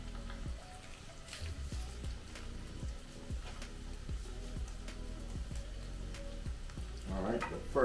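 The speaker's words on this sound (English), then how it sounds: "first I just want the onion to cook for about 2 minutes" Onions fry in a pan for a spicy seafood butter sauce, giving a constant low sizzle with soft crackles throughout, no voices.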